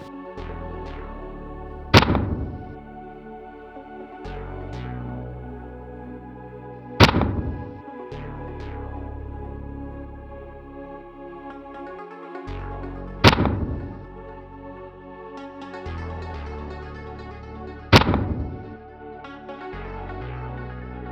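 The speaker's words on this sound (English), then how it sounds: "we're gonna set up our rifles, run a couple more rounds through them" Four rifle shots from an 11.5-inch barrel fitted with a SureFire Warcomp compensator, each a sharp loud crack with a long rolling echo, spaced roughly five seconds apart outdoors.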